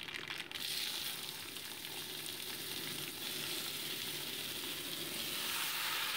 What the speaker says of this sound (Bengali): দিয়ে মোটামুটি এটাকে 2 মিনিট ভালো করে আমি ভেজে নিচ্ছি